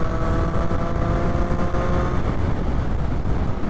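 A Triumph Street Triple RS motorcycle engine pulls hard past 6000 RPM, giving a steady, loud, dense roar with a whining tone that holds throughout, and no talk over it.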